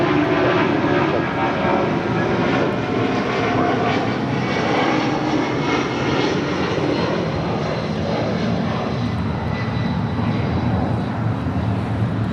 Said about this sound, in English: This is Delta Airlines 878 taking off to Boston on a 757-200.